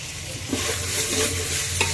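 Raw prawns frying in a hot pan for prawn biryani, with a steady sizzle and some brief stirring scrapes. No voices.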